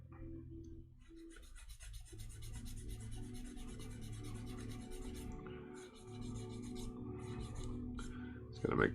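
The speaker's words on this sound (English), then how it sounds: "this guy needs sanded down a little bit more" A small art piece, a peg for a socket joint, is sanded down by hand, giving a continuous close rasping rub in steady back-and-forth strokes with a brief pause near the middle.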